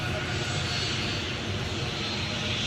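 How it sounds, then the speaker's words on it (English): A Jet2 Holidays airliner at Newcastle airport gives off a continuous loud jet-engine roar, a dense steady wash of noise heard from fairly close. "Next on the blocks, this Jet2 Holidays Sub 37 to Fuerteventura."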